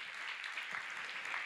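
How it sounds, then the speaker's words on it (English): Faint, distant applause from a gathered audience at a bio summit, thanking the event organizers: a soft, continuous wash of clapping with no voices over it. "So round of applause to you guys for all of your hard work."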